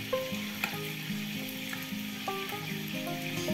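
Meatballs in a pan with seasoning and about half a litre of water are stirred over heat, giving a continuous sizzle and bubbling with light scraping stir strokes and small clinks.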